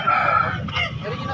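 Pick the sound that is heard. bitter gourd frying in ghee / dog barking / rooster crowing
rooster crowing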